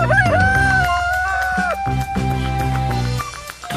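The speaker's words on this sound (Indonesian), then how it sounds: "Wow, ini namanya ayam." A toy chicken gives a loud electronic rooster crow with clucking, set against bright synthetic music that runs through the whole stretch.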